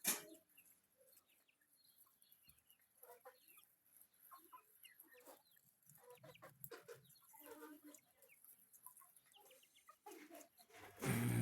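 Tall roosters and hens in a farmyard flock, clucking and crowing in scattered bursts at moderate distance, with brief louder calls near the end.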